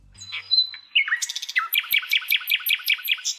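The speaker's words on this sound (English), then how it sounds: "you're supposed to wake up to birds chirping" Birds chirping in the morning: a quick run of bright, evenly spaced tweets that repeat in a steady rhythm, close and clear with nothing else behind them.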